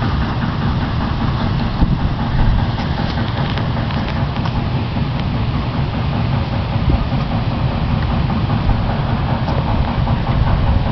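A westbound BNSF freight train, number 4729, rolls past at Litchfield, a steady loud rumble of engine and rail noise holding for the whole stretch with no pauses.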